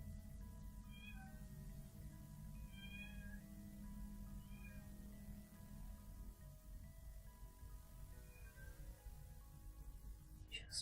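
A cat meows repeatedly in short, high cries spaced a second or two apart, fairly faint over a low background hum.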